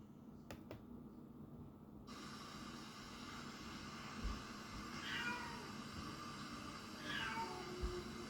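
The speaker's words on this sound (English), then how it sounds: "my cat will not stop meowing" A cat meows twice, a few seconds apart, faint and somewhat distant against a quiet background hum.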